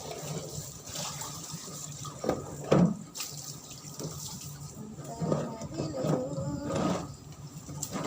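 Tap water runs steadily into a basin while a dog is bathed, a close continuous gush with splashes and soft thumps, a few quiet voices underneath.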